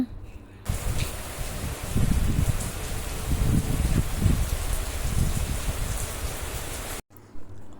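Steady cyclone rain pattering down, a dense continuous hiss with low rumbling underneath, cutting off abruptly near the end.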